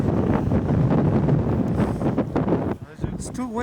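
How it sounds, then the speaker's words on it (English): Gusts of wind buffet the microphone outdoors in loud, rough low rumbles that ease near the end as a voice briefly speaks. "It's too windy though."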